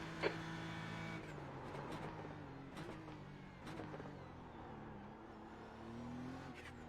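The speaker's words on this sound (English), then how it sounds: "There's a faster class car approaching." Faster-class race car in a racing video game, its engine whine climbing and shifting as it closes in, with steady motor drone and brief bursts layered over a continuous car sound.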